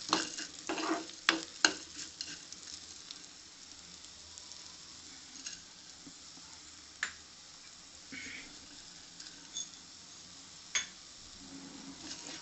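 Soft, steady sizzling of cumin and coriander seeds frying in a hot pan, with occasional scrapes and clicks of stirring scattered throughout, no voices.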